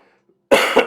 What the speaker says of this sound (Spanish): perdón, todavía sigo con un poco de tos